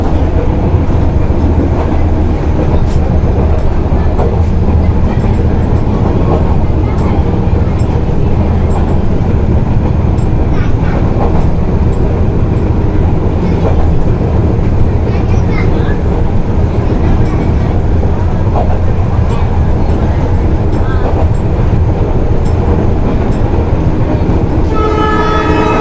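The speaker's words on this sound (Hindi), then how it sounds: "स्टेशन पर अपना आगमन होता हुआ।" Mailani Vistadome AC tourist train running through Dudhwa National Park and arriving at a station, with a loud steady rumble of wheels and carriages throughout and horn blasts near the end.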